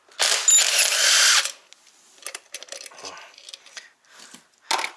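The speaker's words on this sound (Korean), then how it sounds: "발판 볼트 하나, 둘, 셋, 4개 풉니다." A power driver unscrews the footboard bolts on an electric kick scooter kit with a close, whirring burst, followed by ratcheting clicks, small metallic taps and rattles, then a short final whir.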